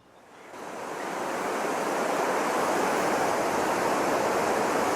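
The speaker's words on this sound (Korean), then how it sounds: "나야가라 폭포를 보십시오." Niagara Falls roars as a steady, dense wash of falling water that swells up over the first second and then holds loud and constant, with no voices.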